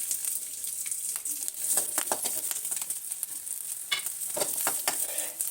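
Cumin, ginger, garlic and green chilli sizzle steadily in hot oil in a pan, with soft stirring scrapes and crackles and no talking.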